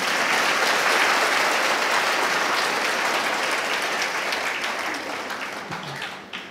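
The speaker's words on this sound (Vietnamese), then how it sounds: "Cho một tràng pháo tay lớn." A church congregation bursts into loud, dense applause at once, holding steady for several seconds before thinning out and fading near the end.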